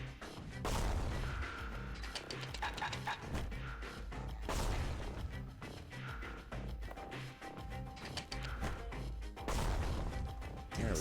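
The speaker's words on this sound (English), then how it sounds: "Fireworks over Boundless Bay." Fireworks burst over Boundless Bay in a video game, a series of loud booming explosions with crackling tails repeating every couple of seconds, with no talk over them.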